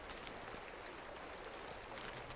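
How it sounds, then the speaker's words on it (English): Rain falls in the survival video game Sons of the Forest, a dense, even hiss of steady rainfall with no talk over it for a couple of seconds. "It's raining?"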